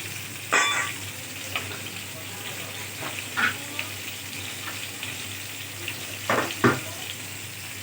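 Potol and potato curry with hilsa is cooking down in a lidded pan, a steady low sizzle broken by several sharp clanks and scrapes of the lid and spoon, with no talk.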